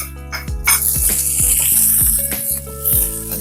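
Finely chopped onion fries in a pan for veg burger patties, a loud close sizzle with a series of rhythmic low thumps and clinks from a utensil against the pan.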